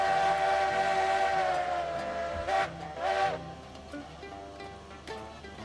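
A steam locomotive whistle blows in the Railroads Online video game, sounding as a long, sustained, harmonic-rich tone over the rumble of the train, with two brief louder swells partway through.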